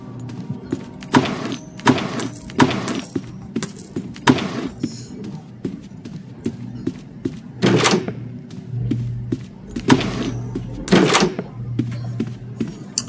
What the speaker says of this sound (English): That was the sound of the coins being collected.